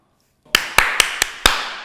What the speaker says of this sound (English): Clapped in my ear, Theo.